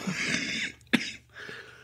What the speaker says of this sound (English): excuse me, I'll cut that cough out.